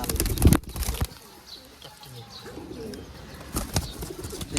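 A burst of wings flapping close by, then soft cooing and faint rustling from army-bloodline pigeons, ending with another flutter of wings.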